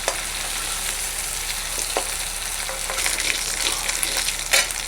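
Prawns frying in hot oil, a loud, close, continuous sizzle broken by a few sharp crackles and stirring scrapes, with no talk.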